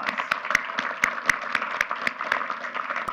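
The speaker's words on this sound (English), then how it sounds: "we give you a hand of applause" An audience at a community meeting claps in a steady burst of applause, with sharp individual claps standing out over the crowd's continuous patter.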